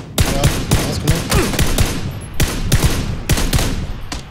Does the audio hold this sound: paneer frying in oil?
no